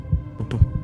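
A strange, irregular heartbeat sound effect from a heart forced into an arrhythmia during a tabletop game session: a few low, thudding beats in an uneven rhythm with a faint hum beneath, heard alone.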